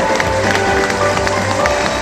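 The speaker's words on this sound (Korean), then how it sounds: "큰 박수 부탁드리겠습니다." An audience claps at a commemorative ceremony in Yeongcheon honoring a government-standard portrait, a continuous mix of many hands clapping at moderate distance with faint crowd murmur.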